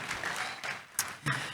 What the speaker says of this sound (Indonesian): Tepuk tangan dulu yang meriah buat Tuhan kita.